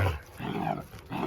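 Dogs wrestling roughly at home, a younger dog pestering an older one, giving a short burst of close, rumbling growls mixed with snarly huffs.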